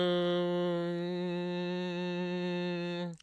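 A single held synthesizer note with rich harmonics from Evangelion anime soundtrack music rings steadily, then cuts off abruptly at the end.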